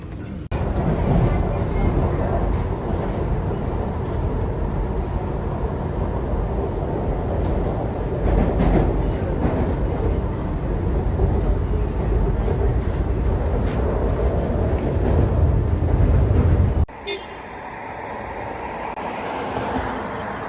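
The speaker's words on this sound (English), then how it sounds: "do not attempt to exit or board the train while the doors are in motion" A subway train in China rumbles steadily along the track for about seventeen seconds, a loud continuous roar with rattles, then cuts abruptly to a quieter interior hum.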